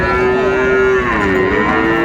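A Sahiwal bull at a cattle market lets out one long, loud, deep moo close by, holding steady before dipping slightly in pitch near the end.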